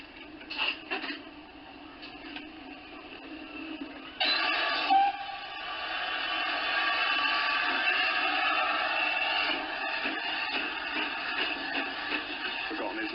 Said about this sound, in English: just in time to see the loco run around to the other end of the train